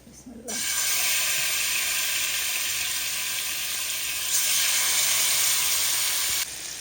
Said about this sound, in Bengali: সরাসরি মাছটাই দিয়ে দিব আর কি ডিরেক্টলি তেলের মধ্যে